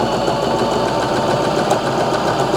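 A Baby Lock Zest home sewing machine runs a straight stitch through fabric, a steady close mechanical whirr with a fast even needle rhythm throughout.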